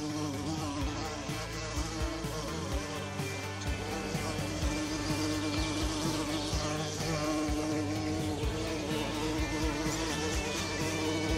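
Honey bees swarming around a farm colony make a dense, continuous buzzing drone that holds steady and fairly close throughout, with no talking.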